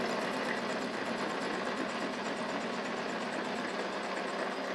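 An aircraft magneto spinning at 500 rpm on a test stand, giving a steady, dense mechanical whir with fine rapid ticking that holds constant throughout, with no voices.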